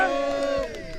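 A rally crowd cheers for Glasgow council at an outdoor Scottish independence gathering at Bannockburn, the sustained loud mass of voices filling the short moment and easing slightly toward the end.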